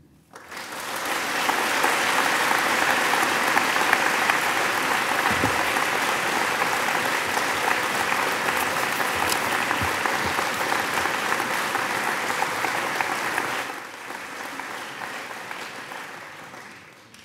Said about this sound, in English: a round of applause to show the respect